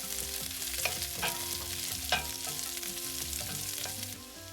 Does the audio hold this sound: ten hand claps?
no